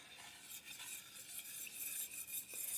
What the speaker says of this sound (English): We're going to stir this.